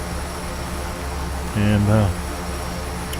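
Engine drone of a Quest Kodiak turboprop in the X-Plane 11 flight simulator runs as a steady low hum, with someone speaking briefly over it partway through.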